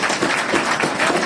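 An audience at a NEET preparation talk in Jaipur applauds, a brief, moderately loud patter of many hands clapping together with no talk.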